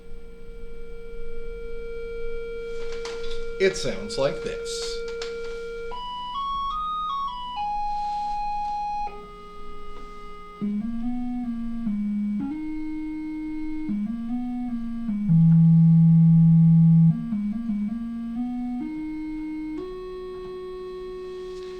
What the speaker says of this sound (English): So first up, we have the sine wave